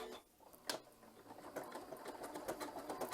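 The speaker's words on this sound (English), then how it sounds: "So I'm going to start sewing here." Continental M7 sewing machine running a zigzag stitch through knit fabric, a soft, quiet mechanical whir with light ticking that builds steadily over a few seconds, heard up close with no talking.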